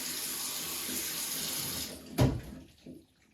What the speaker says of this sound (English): And running water!